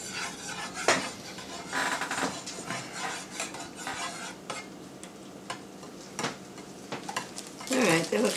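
A wire whisk beats batter in a bowl, with rapid, irregular clinks and taps against the sides and occasional louder knocks, close up, with faint talk in the background.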